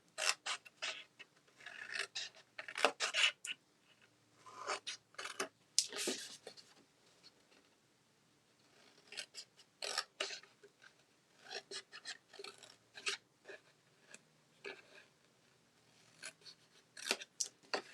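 Scissors snipping through gift box cardboard along score lines, with repeated short cutting and rasping strokes in irregular bursts, close and fairly quiet, separated by brief pauses and soft handling noises, with no talking.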